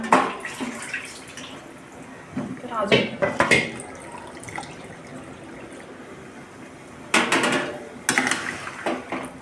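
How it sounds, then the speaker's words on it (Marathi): Hot water is poured into a pot of chicken pulao rice, with short splashing bursts breaking through an ongoing voice talking nearby. "आता आपण यात पाणी टाकून घेऊया।"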